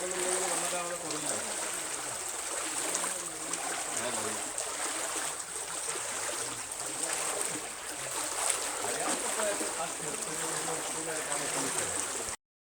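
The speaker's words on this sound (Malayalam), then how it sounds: "പുഴയിൽ ഒലൂരൊക്കെ ചെറിയ കുറവുണ്ട്" A flooded river in Parappur panchayat rushes steadily with a continuous broad wash of moving water, while a voice talks over it.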